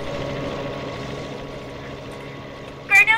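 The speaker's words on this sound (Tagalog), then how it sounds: "May helikopter na." Helicopter flying, a steady low rotor drone with broadband rumble, moderately distant and continuous, with a brief sharp sound near the end.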